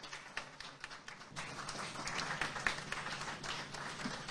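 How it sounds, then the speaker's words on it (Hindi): Audience clapping at a Hindi news channel's awards and book-launch event, a dense, steady applause that continues throughout and swells slightly midway, with no talk over it. "जोरदार तालियां।"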